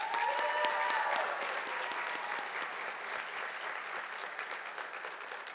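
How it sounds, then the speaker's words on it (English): A theater audience at a U.S. naturalization ceremony gives a sustained round of applause for friends and family, steady and moderately distant, slowly tapering over several seconds with no talk. "Let's give them a round of applause"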